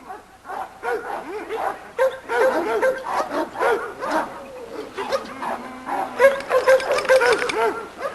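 Red, black-masked dogs in a dog yard yip, whimper and bark in quick, overlapping bursts close by, a busy chorus of excited calls throughout.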